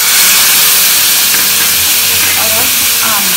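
Loud, steady sizzling and hissing of hot oil, with a brief sputtering burst as dissolved asafoetida hits the pan during tempering; no voices.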